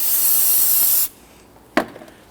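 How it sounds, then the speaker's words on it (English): A can of spray solvent hisses in one steady, loud burst onto a rag while cleaning gasket residue from a 2006-2014 Honda Ridgeline engine, then stops; a brief rubbing scuff follows. "We're going to use some spray solvent on a rag or a towel."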